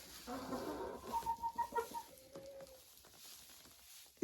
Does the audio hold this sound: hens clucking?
yes